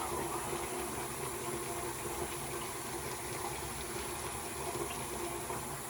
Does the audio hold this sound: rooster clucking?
no